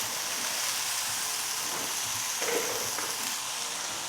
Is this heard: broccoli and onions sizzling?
yes